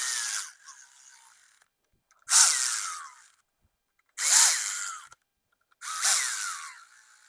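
A power tool drives front cover bolts into a 6.0 Powerstroke diesel engine in three loud, close bursts, each whirring up and winding down, separated by quiet pauses, after a quieter opening run.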